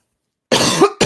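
A single dry cough from an adult, short and close, after a stretch of silence and followed by the start of another.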